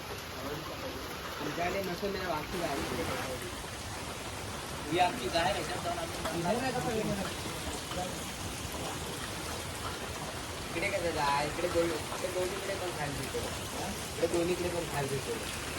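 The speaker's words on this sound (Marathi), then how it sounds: "बाहेर मस्त पाऊस पडतोय" Heavy rain falls outside as a steady, hissing wash that fills the whole stretch. A voice speaks intermittently over it.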